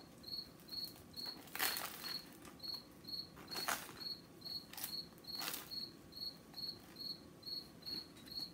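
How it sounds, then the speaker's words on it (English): A cricket chirps in quick, regular bursts, steady and fairly close during a quiet indoor meal, with a few soft clicks and thumps from eating and handling in between and no talking. "this cricket won't shut up"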